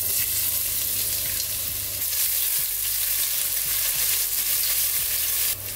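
Crushed ginger and garlic fry in hot oil for a samosa filling, a steady dense sizzle running unbroken and loud, with brief stirring scrapes partway through.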